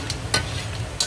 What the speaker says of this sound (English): You should fry it till it's melted and caramelized.